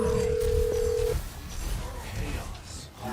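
A phone places a call back to someone: a steady electronic tone holds for about a second, then gives way to faint room noise and murmuring voices.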